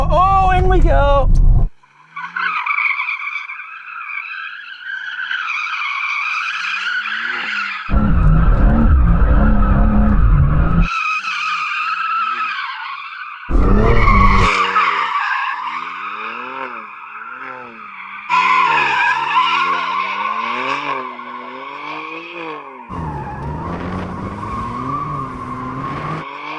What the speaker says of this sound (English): So I'll head out in this and go for a little bit of a skid round a bush.